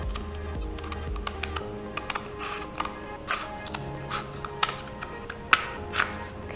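Cardboard being cut down the centre for a recycled sailboat craft, heard as a series of close, crisp snips and clicks at an uneven pace, with no talking.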